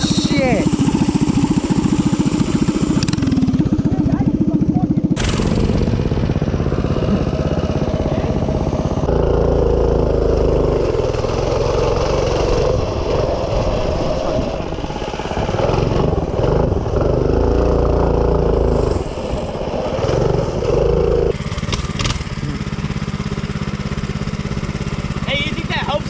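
A minibike engine runs close by, idling roughly and then revving in repeated loud bursts with a buzzing, clattering tone, while people talk over it throughout.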